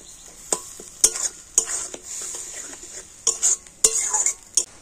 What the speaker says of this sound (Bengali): জল দিয়ে সমস্ত মশলাগুলোকে একটু কষে নিতে হবে